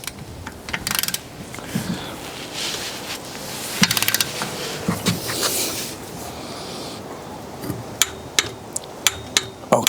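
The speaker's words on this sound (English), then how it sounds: "So we'll tighten this up now to 50 Newton meters" A long-lever torque wrench tightens a bolt to 50 newton meters, giving a string of sharp metallic ratchet clicks and knocks that come in quick bursts with short pauses, heard close with no talking.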